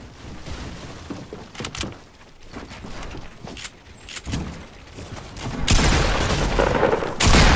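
Video game gunfire in a Fortnite duo match, with rapid bursts of shots and booms that grow louder and denser toward the end, with no voices over them.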